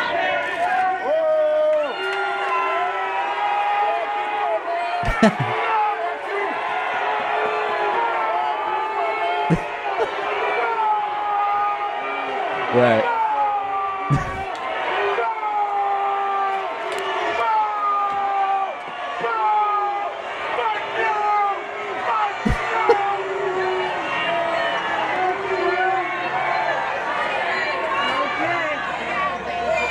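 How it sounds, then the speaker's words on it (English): A whole city block of street protesters boos Paul Ryan, a dense, sustained crowd roar of jeers and shouts running throughout with a few sharp bangs, and a voice speaks briefly over it. "an entire city block is booing him"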